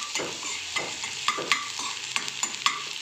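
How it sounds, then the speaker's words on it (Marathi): A spoon stirs chili garlic paste with cumin in a hot pan for a carrot and pea fry, quiet sizzling punctuated by regular scraping strokes and light clinks against the pan, with no talking. "आणि मिरची लसणाची पेस्ट छान मिक्स करून घेऊया"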